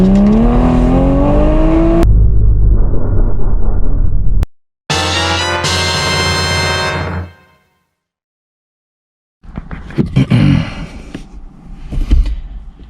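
A 2020 MK5 Toyota Supra engine running a stage 2 tune on 95 octane with octane booster roars loudly at wide open throttle, its pitch climbing through a pull, then another hard burst, a pause, and rougher revving near the end.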